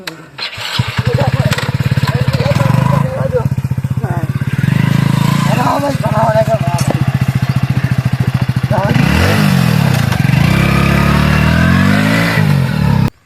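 A motorcycle engine starts up close, then idles and revs loudly in repeated surges with a steady throbbing beat. Voices talk over it.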